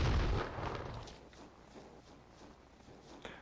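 Gunfire in The Thing video game: a heavy, booming shot at the start with a rumbling tail, then quieter scattered thuds and a faint sharp pop near the end.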